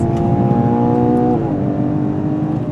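Ferrari Purosangue V12 engine droning steadily under load while driving, a loud, sustained harmonic hum that holds one pitch, then drops slightly midway as if shifting or easing off, with continuous road rumble beneath.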